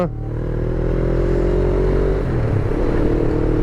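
A motorcycle engine drones steadily close by on a mountain pass, holding a constant rumbling pitch that shifts slightly toward the end.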